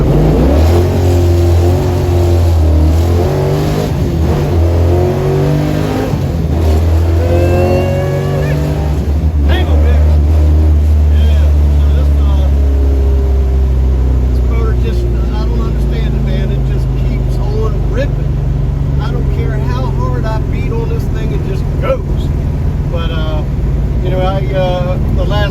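A 1971 Dodge Challenger with a 440 V8, Ultradyne cam, 4-speed and 4.10 Dana 60 roars loudly as it accelerates on a test drive, revs climbing through gears while someone talks over the engine.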